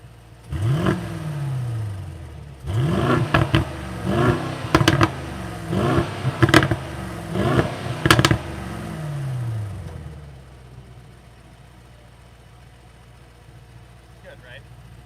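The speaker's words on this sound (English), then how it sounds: "of course I'm going to rev it one more time because that's what you came here for" A 2021 Mercedes-AMG GLS 63 4Matic+ engine blips through a run of sharp revs, roughly six bursts in quick succession, then falls back to a low idle with faint background chatter.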